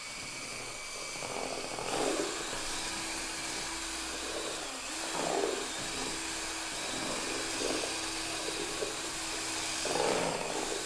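A drill-driven paddle mixes drywall joint compound powder in a container, a steady motorized whir with periodic heavier swells as the mixer churns.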